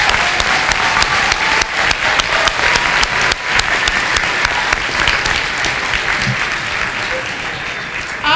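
Sustained applause from an audience at a school recognition ceremony, many hands clapping loudly and continuously, with a few sharper individual claps standing out and the clapping fading slightly toward the end.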